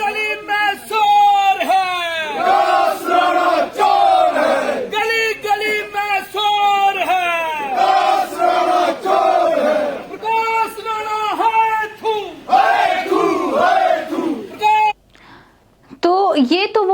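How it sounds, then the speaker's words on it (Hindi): A crowd of protesters loudly chants slogans against an MLA, rhythmic shouted voices repeating in close, steady waves with only a brief pause near the end. "विधायक के खिलाफ जबरदस्त नारेबाजी हुई।"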